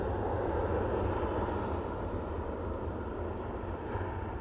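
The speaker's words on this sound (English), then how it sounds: "Ryanair making its way over to T3 now." A Ryanair airliner taxiing to Terminal 3 at Manchester Airport gives a steady low engine rumble and hum, moderately loud and unchanging for a few seconds, with no voices.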